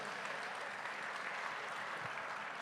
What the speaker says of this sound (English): Big round of applause there from everyone in the house here at the Easter Beef Sale.